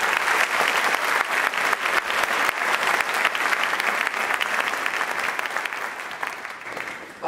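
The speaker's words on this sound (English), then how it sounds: "Let's give them another round of applause." Loud, sustained applause from an audience at a renewal service, many hands clapping in a dense, even roar that carries on for about seven seconds before easing slightly at the end.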